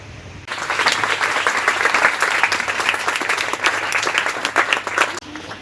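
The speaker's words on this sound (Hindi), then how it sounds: "आप सभी तालियों से स्वागत करते रहेंगे।" An audience at an academy's annual award ceremony breaks into sustained applause: dense, even clapping from a crowd lasting about five seconds, loud and close, before it cuts off abruptly.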